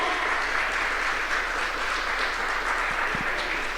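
Sustained applause from a church congregation, a steady dense wash of clapping that holds at an even level throughout.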